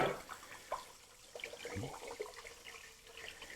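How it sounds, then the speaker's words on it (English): Tap water runs quietly into a pot being filled for pasta in a home kitchen, a faint, soft rush with a few small knocks and splashes. "I'm going to go ahead and get my water in my other bucket here, my other pot"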